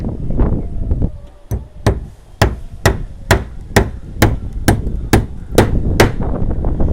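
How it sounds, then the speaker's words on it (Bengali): A hammer drives a nail into wood with about a dozen sharp, loud, evenly spaced blows, close by, in a steady rhythm after a few hesitant taps. "এই যে এই যে এই যে পেরেক মার"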